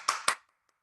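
Two quick, sharp hand claps from a single person at an online empathy workshop, close and distinct, followed by near silence.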